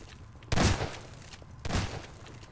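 Two heavy gunshot bursts in the Prop Hunt video game as a window is shot out, each a loud booming blast about a second apart over quiet background.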